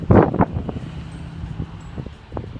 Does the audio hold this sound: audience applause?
no